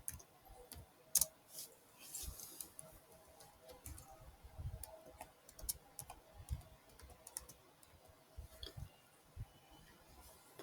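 Fingers type on a computer keyboard, quiet irregular clicks and taps in bursts with brief pauses, close and faint, no talk.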